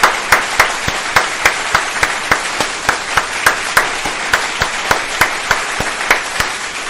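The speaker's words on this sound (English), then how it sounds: "Applaud them both." Sparse, evenly paced claps on a radio show, a few hands beating a loud, crisp steady rhythm of roughly three claps per second over a faint background of scattered applause.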